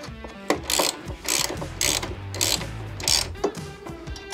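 A hand ratchet clicks in quick rapid bursts while stock bolts are fastened back onto a Harley Road Glide motorcycle, close and crisp with short pauses between strokes.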